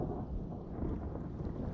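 Steady rain and a rolling thunderstorm during a drone flight, a dense continuous wash of rainfall with low rumbling underneath, close and even throughout with no voices.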